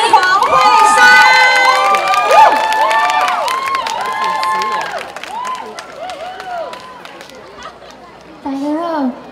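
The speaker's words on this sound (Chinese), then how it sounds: "掌声欢迎" A crowd of children and adults cheers, shouts and claps for a young contestant at a Hengchun folk-song competition's elementary-school solo round, a loud, busy burst of voices that thins out before a single voice starts speaking.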